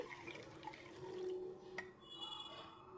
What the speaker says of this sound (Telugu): ఇప్పుడు ఒక పెద్ద గ్లాస్ నిండా నీళ్ళు పోసుకోండి